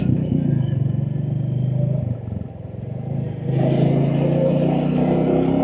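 A Royal Enfield Classic 350 motorcycle engine idles with a deep thumping rumble, dips briefly, then revs up louder and holds a steady throb, close by.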